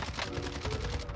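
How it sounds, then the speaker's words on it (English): Gunfire aimed at the player in the Warzone video game, a dense, continuous rattle of shots with no gaps over a short burst, loud and close. "I'm getting shot from the road"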